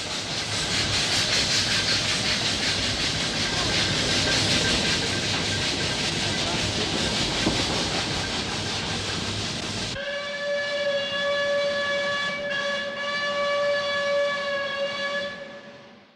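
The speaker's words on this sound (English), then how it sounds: "a plume of black smoke signals another ascent of the Mount Washington Cog Railway" A loud steam whistle blows steadily over the rumble and chuff of a Mount Washington Cog Railway steam train climbing, then a long tonal whistle holds before fading out.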